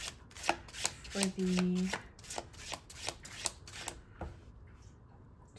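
Tarot cards being shuffled and drawn, a rapid run of crisp riffling snaps with a short voiced hum partway through, close and fairly loud, with a few spoken words in the background.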